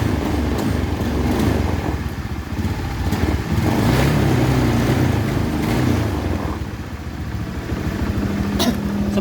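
A Yamaha Beat FI motorcycle engine, suffering a rough starter and bad misfiring, revs close up with a loud, uneven throttle that surges and fades across the clip.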